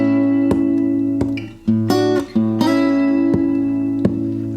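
A fingerstyle gospel blues guitar phrase plays alone and clear: thumbed bass notes under plucked double stops, with a string of sharp picked attacks, a few brief gaps and ringing sustain between them.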